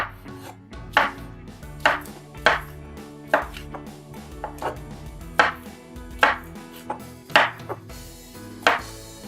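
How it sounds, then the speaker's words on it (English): A knife cuts sausage into quarter-inch slices on a cutting board, with about a dozen crisp, evenly spaced chops close up and no talking. "We're gonna cut these in slices. Probably about 1/4-inch slices."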